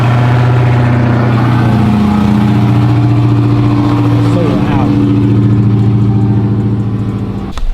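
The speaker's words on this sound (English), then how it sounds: "Bro, this car is so loud." Dodge Hellcat Redeye with a straight-pipe exhaust sits close by, its loud, deep engine droning steadily and swelling in revs, with people talking over it.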